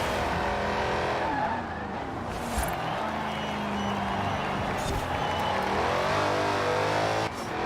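Dodge Charger Daytona with a Hellcat engine in Forza Horizon 4, revving hard through gear changes with rising and falling engine pitch and tire squeal, loud and continuous, with a voice talking over parts of it.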